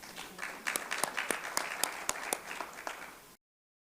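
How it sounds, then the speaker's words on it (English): Clapping from an audience at a community talk in a library during Library Week, with sharp, distinct hand claps sounding over a softer bed of applause. It runs for about three seconds and then stops abruptly. "this is where we all clap"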